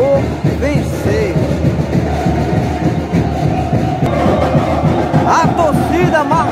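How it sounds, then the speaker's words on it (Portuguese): Football fans packing a stadium for a match: a dense, loud, continuous roar of crowd voices, chanting and cheering with whistles rising above it, heard throughout. "A torcida marcou presença, lotando o estádio da Graça."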